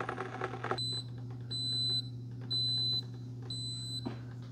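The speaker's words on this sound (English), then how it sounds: "Okay, so it beeped at us," A Cuisinart SS-12 coffee maker beeps when brewing finishes: four evenly spaced, clear high electronic tones, each about half a second long, over a steady low appliance hum. No one speaks.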